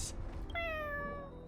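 A single drawn-out cat meow from the video game Honkai Star Rail, close and clear, rising then slowly falling in pitch after a brief soft noise.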